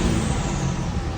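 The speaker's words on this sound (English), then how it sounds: "You can really hear that turbo" A loud diesel truck engine roars steadily, close by, with a rough rumbling tone and the airy whoosh of its turbo spooling on top.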